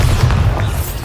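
Bombarda explosion spell going off in Hogwarts Legacy, a loud, deep, rumbling blast that fills the whole short moment without any break.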